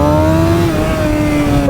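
A motorcycle engine revs hard through a wheelie, a loud, steady high-pitched drone with slowly sliding pitch, close and continuous with no talk.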